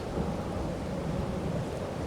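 Rain and rolling thunder from the Farming Simulator 22 video game form a continuous, dense rumble with steady rainfall, loud and unbroken, and no voices.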